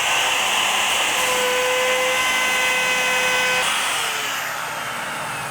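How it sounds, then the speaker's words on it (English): A bevel router trims the ends of a wooden floating shelf, a loud steady high-pitched whine that holds for several seconds, then eases down as the cut finishes. "I am now going to use a bevel router on these two ends"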